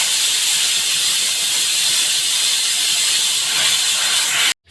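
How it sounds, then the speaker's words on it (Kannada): Pressure cooker whistling while toor dal cooks with tomato and onion, a loud steady steam hiss holding for several seconds before cutting off abruptly. "ನಮಗೆ 2 ವಿಷಲ್ ಕೂಗಿಸ್ಲೇಬೇಕಾಗುತ್ತೆ"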